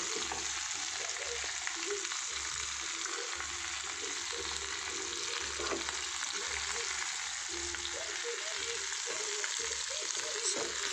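Okra, brinjal, potato, carrot, cucumber and tomato frying in a pan for Telangana-style sambar, a continuous dense sizzle with a low hum underneath, steady and close throughout with occasional soft stirring movement.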